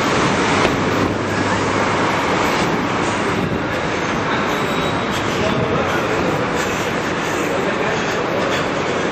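A train at Milan Malpensa Airport Terminal 2 rolls along with a steady, loud rumble and rattling wheels, a dense continuous roar without pauses.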